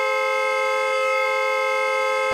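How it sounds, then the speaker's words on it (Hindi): A car horn blaring without a break, one loud, continuous, unwavering blast with no pauses, heard close by. "कौन है ये नॉन स्टॉप हॉर्न बजा रहा है?"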